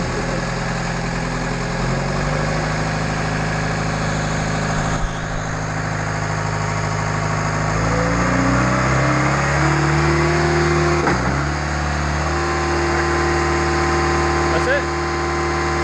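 Schwing BPA500 concrete pump engine running steadily through a pressure test, a loud continuous drone whose pitch climbs and settles partway through, with a brief dip near the end and voices talking faintly underneath.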